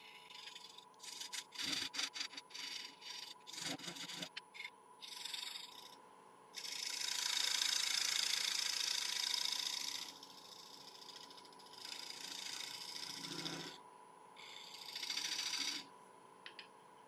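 A small parting tool cuts a recess into Irish yew spinning on a wood lathe, giving rough scraping and rasping bursts of varying length over a steady motor hum, with some clicky handling early on.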